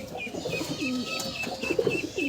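Domestic pigeons of local bloodlines, adults and young, coo in a loft, several low rolling calls overlapping near and moderately loud, with faint chirps and tweets behind them.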